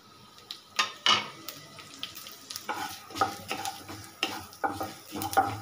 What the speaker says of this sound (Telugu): దీని కూడా మనము ఫ్రై చేసుకోవాలి